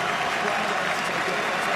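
A stadium crowd at the 2014 Six Nations rugby match between Ireland and Wales applauds the loose head prop leaving the field, a dense, continuous wash of clapping and crowd noise with a commentator talking over it.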